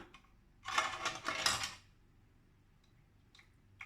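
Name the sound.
brass lamp lifted out of a pressure cooker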